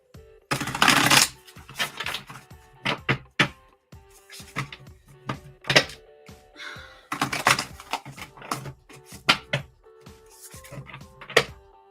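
Oversized tarot cards riffled and shuffled by hand in repeated bursts of crisp flapping and slapping, close up, with short pauses between rounds and no talking.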